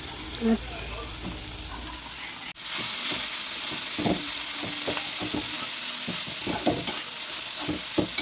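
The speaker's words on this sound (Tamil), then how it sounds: "வெங்காயம் நல்லா வதங்கினதும் நம்ம வெஜிடபிள்ஸ் ஆட் பண்ணிக்கலாம்." Cabbage and carrot stir-frying with onion in a pan, a constant sizzle with a sudden jump in loudness as the vegetables go in, followed by repeated scraping stirs.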